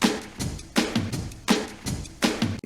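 An old-recording-style drum loop sample with punchy kicks and snares repeating about every three-quarters of a second, slightly muffled and dusty in tone, no voices.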